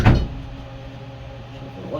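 A door swings shut with a single solid thump right at the start, then a quiet room hum follows, close by and loud, in a workshop where a Craftsman pressure washer is being checked for spark.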